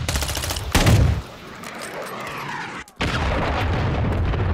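Missile strike explosions in a first-person shooter video game, heard as a dense burst of loud booms and rumbling blasts that drops out briefly near the end before the rumbling resumes.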